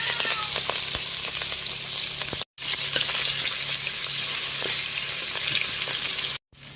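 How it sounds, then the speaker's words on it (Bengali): Hilsa fish pieces fry in hot oil, giving a dense, continuous close sizzle with scattered small pops, broken by two brief silent gaps. "এই পর্যায়ে আমি মাছগুলো সব ভেজে নেওয়ার জন্য তুলে দিলাম"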